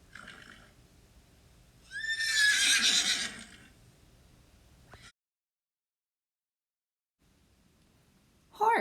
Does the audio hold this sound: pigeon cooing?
no